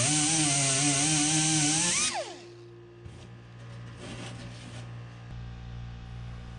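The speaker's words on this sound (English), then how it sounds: "we'll use a angle die grinder with a little mini flat wheel in it to grind down the welds until they're nice and smooth" Angle die grinder with a mini flat wheel grinding welds smooth on a plate: a loud high-pitched whine that winds down after two seconds, followed by light scraping and handling noises.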